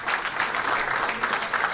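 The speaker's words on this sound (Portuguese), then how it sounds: "A Dália Barata, uma grande salva de palmas para ela." Audience applause at a Portuguese variety revue in Peniche, a steady wash of many hands clapping together, even and fairly loud throughout with no talk over it.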